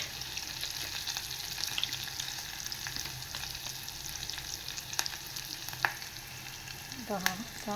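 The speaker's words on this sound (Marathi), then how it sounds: "यातच टाकणार आहे मी कढीपत्ता थोडासा आणि आलं लसणाची पेस्ट" Curry leaves and ginger-garlic paste fry in oil for a steady, close sizzle with occasional stirring clicks, and a sharper burst of spattering near the end; no one speaks.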